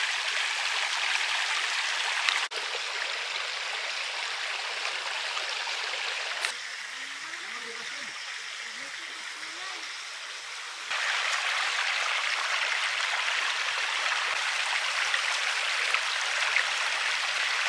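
Flowing stream water in rural Surigao del Norte, a steady close rushing and gurgling hiss that briefly softens in the middle before returning at full strength.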